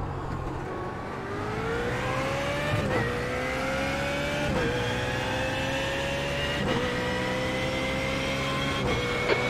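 A BMW Z4 GT3 race car in iRacing at Spa drones steadily throughout, its engine note climbing through the gears with a few brief dips at each upshift, loud and close with no voices.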